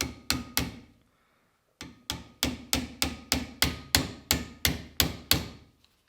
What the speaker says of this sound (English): I'm going to try with this little brass hammer